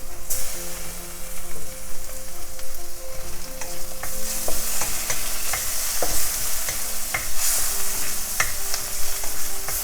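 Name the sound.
tomatoes added to frying onions in pan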